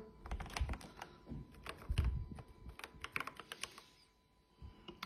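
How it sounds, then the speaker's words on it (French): Rapid keystrokes on a Keychron K8 Pro mechanical keyboard, a close, fairly quiet run of clicks and thocks with a short pause near the end. "Attendez, je vais taper un texte."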